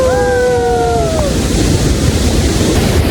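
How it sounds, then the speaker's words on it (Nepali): The Sursing waterfall in Helambu gives a loud, steady roar of rushing water, broad and continuous, close by, with a short whistle-like tone at the start. "ल हाम्रो चाहिँ झरना यहीँ छ है"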